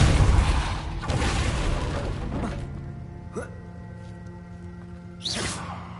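Depulso spell cast in Hogwarts Legacy on PS5: a loud forceful blast that fades into a lingering ringing tone, followed by a few sharper whooshing impacts, with no talk over it.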